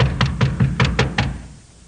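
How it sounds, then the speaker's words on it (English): Knocking on a wooden door as a 1950s radio western sound effect: about six firm, hollow knocks in two quick groups, close and loud, then fading to quiet. "All right, I'll knock."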